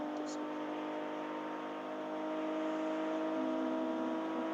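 A car engine hums at a steady idle-like drone that rises slightly as the gas is pressed, with a voice talking over it.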